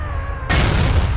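A single heavy cannon blast from an IS-6 tank in World of Tanks, a sudden loud boom cutting in over a low engine hum and rumbling on without pause.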